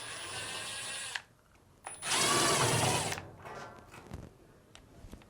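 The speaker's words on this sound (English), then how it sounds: "Using a Phillips screwdriver, we can now remove these two Phillips screws to remove the front panel." A Phillips screwdriver backs out screws from the front panel of a Fisher & Paykel dryer, giving two bursts of close, whirring driver noise separated by a pause, followed by light clicks and handling.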